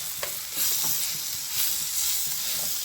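Ginger-garlic paste sizzles and fries in a hot pan for a prawn fry, a steady close hiss with a few scraping stirs, no voices.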